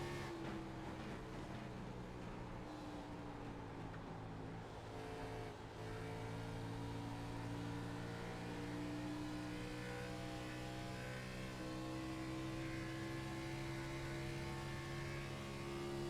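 Race car engine at Homestead captured from an onboard cockpit camera, a loud steady drone with strong sustained harmonics and slight pitch shifts across the laps, continuous and close throughout with no talking.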